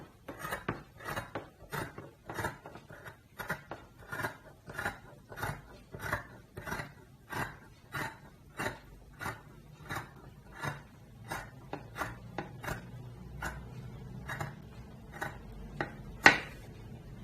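Fabric being cut for a sewing project, heard as a long series of evenly spaced, crisp scissor snips, close and fairly quiet, with one sharper snip near the end.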